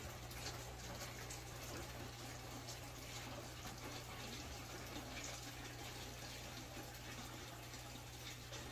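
Steady, continuous rush of water pouring from a hose into a fish tank being filled for a fahaka puffer, a constant broadband flow with a low hum beneath, unbroken for the whole stretch with no talking.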